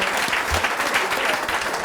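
An audience at an oyster-shucking competition claps for a contestant, a brief burst of many hands applauding evenly at close range, with a faint murmur of voices beneath.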